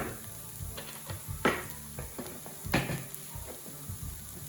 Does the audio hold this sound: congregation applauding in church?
no